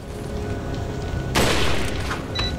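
A single loud gunshot fired at an enemy in Resident Evil 4, bursting suddenly through a low rumbling game background and then fading into the ambience.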